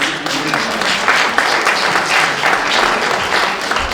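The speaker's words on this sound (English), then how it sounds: "et on peut les applaudir" Audience applause at the Women of Valour event in Paris, a steady wash of many hands clapping, fairly loud and even from start to finish with no voices over it.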